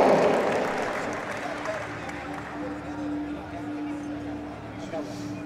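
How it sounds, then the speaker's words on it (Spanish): A crowd in an arena at the Pan American senior weightlifting championships in Caracas applauds the men's 67 kg athletes. The applause swells loud at the start and then settles into a sustained murmur, with a steady tone and voices underneath. "Fuerte el aplauso para ellos"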